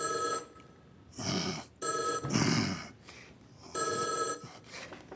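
An old-style telephone bell ringing on a French TV stage show, loud, in three separate bursts of ringing with short silences between them.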